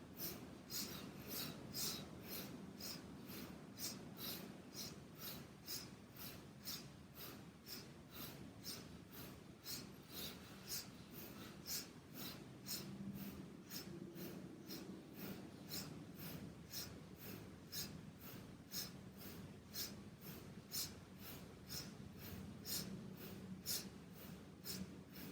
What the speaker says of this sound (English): And again, breath of fire.